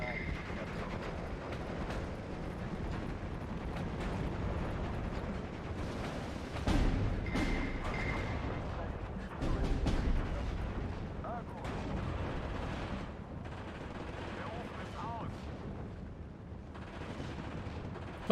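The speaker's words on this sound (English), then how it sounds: "mortar fire." Mortar fire in Steel Division 2, with repeated heavy booming impacts over a continuous rumble of battle, two louder thuds standing out and a voice talking faintly beneath.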